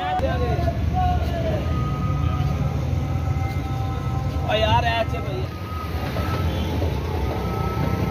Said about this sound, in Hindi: ये पिशावर की गाड़ी है भाई।